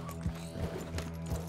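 Horse hooves thud in a regular galloping rhythm in Red Dead Redemption 2, a few heavy footfalls over a steady droning game soundtrack, fairly quiet.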